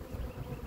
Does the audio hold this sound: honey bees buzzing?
yes